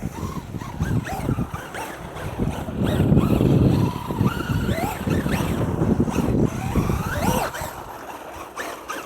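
A Traxxas UDR RC truck running on 6S drives hard nearby, its electric motor whining and rising in pitch over a rough, gusty rumble of wind and terrain noise.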